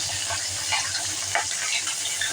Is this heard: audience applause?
no